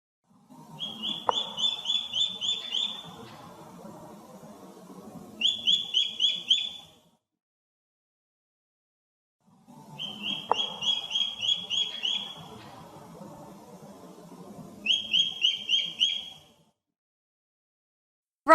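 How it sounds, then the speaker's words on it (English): Two rounds of repeated, evenly spaced high-pitched calls from a goshawk, each burst a quick run of sharp notes followed by a second shorter series, heard clearly over a low rustling background with a pause between rounds. "Goshawk."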